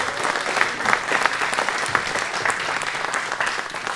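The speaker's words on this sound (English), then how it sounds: "huge round of applause." Sustained applause from an audience, dense steady clapping filling the space without a break from start to finish.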